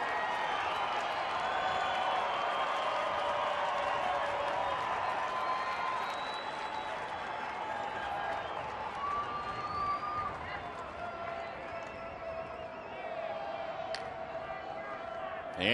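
A baseball stadium crowd of more than 20,000 in Detroit, at a Rangers-Tigers game in the bottom of the ninth, gives a broad, distant wash of cheering and applause under continuous play-by-play commentary.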